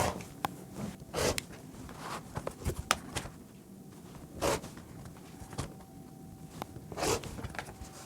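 Rotary cutter and ruler strokes slice through layered quilt fabric into squares on a cutting mat, a series of quiet, sharp scraping swipes with soft handling sounds between them, no talking.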